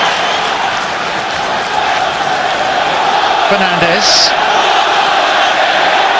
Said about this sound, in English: Crowd warming to the contest.